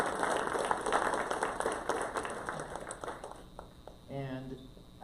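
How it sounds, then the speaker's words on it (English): An audience at a startup lab meetup gives a round of applause, loud and dense at first and then thinning out. A voice begins speaking near the end as the clapping fades. "Let's give him a round of applause and make him feel welcome."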